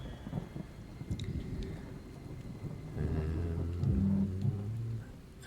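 Wrathful Rain, an area attack in the tactical game Othercide, brings a low rumble of thunder over a patter of rain, with a few sharp cracks and then a swelling tonal hum near the end.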